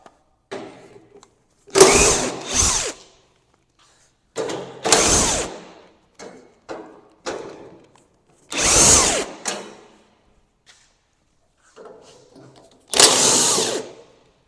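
A power tool zips bolts out of a Farmall 806 tractor in short whirring bursts, each a second or so long, separated by quiet gaps and faint clinks of metal nearby.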